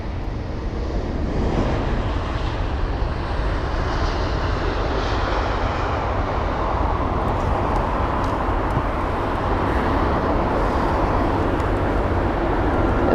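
Lufthansa Airbus A320neo airliner arriving at London Heathrow, a steady loud broadband jet engine roar sustained throughout without talk.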